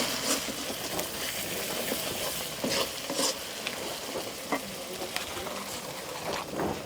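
Raw spices fry in a hot pan with a steady, close crackling sizzle, broken by a few scraping stir strokes across the metal, before the tomatoes go in for a wild rugda mushroom curry.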